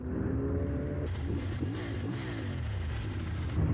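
A CFMoto motorcycle engine revving nearby, its tone rising and falling in a few throttle sweeps over a steady running rumble.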